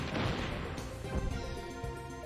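A Nikita missile explodes in Metal Gear Solid VR Missions on PC, a sudden crashing blast that rings out and then decays into a fading rumble over about two seconds.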